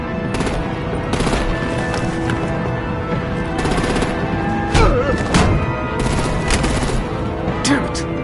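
Sustained gunfire and artillery from the video game Batman: The Enemy Within: dense automatic bursts run throughout, with heavier thudding blasts near the middle and end, loud and busy beneath a game soundtrack.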